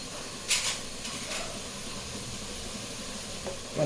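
Onions and masala for beef biryani fry in a pan over a lowered flame, giving a soft, steady sizzle and hiss with a few brief louder bursts of spatter.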